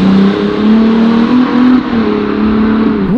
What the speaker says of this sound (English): it is the best sounding exhaust on a V6 that I've ever heard in my life